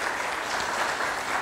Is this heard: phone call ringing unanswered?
no